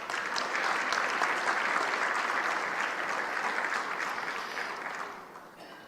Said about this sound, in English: Can we get one more round of applause for them?